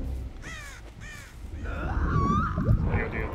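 Crows caw in the video game Dead by Daylight: a couple of rising caws early on, then a harsher, louder burst of cawing and flapping over game ambience toward the end.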